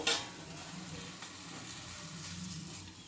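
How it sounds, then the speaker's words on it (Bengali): Fried peanuts and coconut being stirred into kochu (taro) greens in a pan, a steady soft sizzle with scraping stir sounds, close and moderately quiet, no talking. "এবারে এর মধ্যে আমি দিয়ে দিচ্ছি ভেজে রাখা বাদাম আর নারকেল কুচিটা। দিয়ে ভালো করে একটু মিশিয়ে নেব।"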